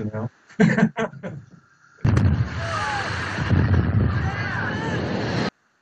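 A real explosion and fire on the set of the film Rock 'n' Roll High School Forever erupts into a sustained, noisy roar lasting several seconds after a few brief spoken words.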